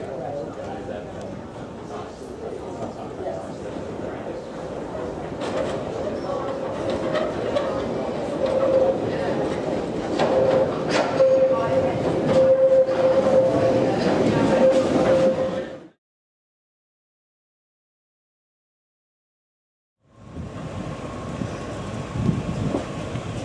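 An Island Line train on the Isle of Wight approaches and runs past close by, a steady rumble and clatter swelling over about fifteen seconds before a sudden cut, then resuming as a lower hum.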